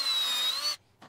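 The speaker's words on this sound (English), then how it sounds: "So I drilled" A power drill bores into wood for a single short burst, whining at a steady pitch before stopping abruptly, followed by a brief faint click.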